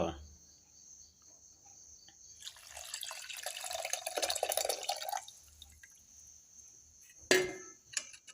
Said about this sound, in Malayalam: തക്കാളി ഞവണ്ടിയത് ഒഴിച്ചു കൊടുക്കുക